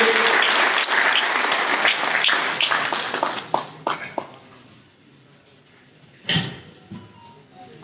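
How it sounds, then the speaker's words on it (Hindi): Loud audience applause welcoming a speaker at an Aam Aadmi Party workers' gathering in Hisar, dense clapping that thins out after a few seconds, falls quiet, then a brief renewed burst of claps near the end. "एक जोरदार तालियों से सुशील गुप्ता जी का स्वागत कीजिए।"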